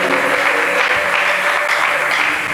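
A church congregation applauds for the word of God, steady dense clapping filling the whole stretch at an even loudness, with faint voices underneath.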